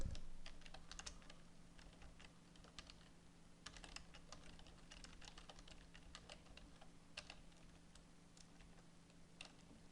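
Quiet computer keyboard typing, a steady patter of soft key clicks over a faint constant hum, close and alone without speech.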